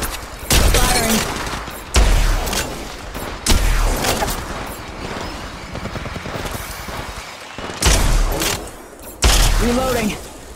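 Bursts of automatic gunfire in Apex Legends Mobile, several loud sustained volleys separated by brief gaps, close and punchy, with a voice speaking in the midst of the shooting.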